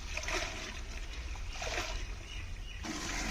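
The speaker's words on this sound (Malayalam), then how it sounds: "ഇതെടുത്തിട്ട് നല്ല ചൂട് വെള്ളത്തിലേക്ക് ഇതിങ്ങനെ മുക്കിയിട്ട് നല്ല ചൂടുണ്ട് നല്ല ചൂടുണ്ട് ഇങ്ങനെ കഴുകി കഴുകി എടുക്കണം" Elephant nettle leaves are dipped and swished in hot water, giving soft, close splashing and trickling that rises and falls over a low background hum, with no talking.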